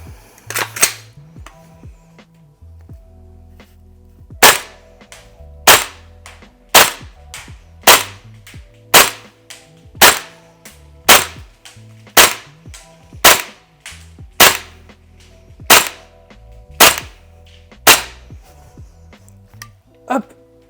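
Tokyo Marui M4A1 MWS CQBR Block 1 gas-blowback airsoft replica firing about a dozen sharp, loud single shots at a steady pace, each with a crisp snap and mechanical clack, with faint quiet background sounds between shots.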